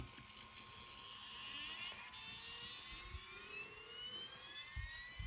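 A small motor in a Losi Promoto MX RC dirt bike whines and climbs steadily in pitch as its flywheel spins up, a high rising tone like a tiny jet, close and continuous.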